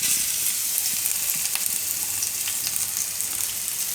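Ginger, chili and garlic hit hot oil in a home kitchen pan, giving a steady bright sizzle with scattered crackles and pops, close and without voices.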